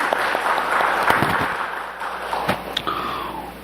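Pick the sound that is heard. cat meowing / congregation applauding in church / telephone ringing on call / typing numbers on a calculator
congregation applauding in church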